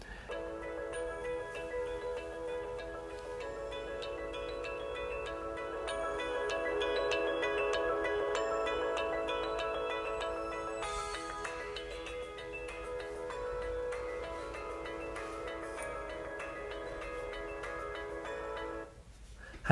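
Music from a YouTube video plays through the built-in speakers of an LG G Pad 8.3 tablet, sounding thin and tinny, steady and continuous for about twenty seconds with no voices.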